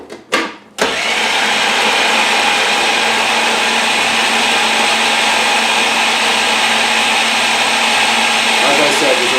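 Food processor pulsing a green falafel mixture of soaked chickpeas, a couple of short bursts then a loud, steady whirring grind that runs on without a break.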